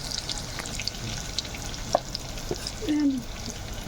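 Coriander and panch phoron spices frying in hot oil for a fish curry give a steady, close sizzle with faint crackles and a brief stir partway through.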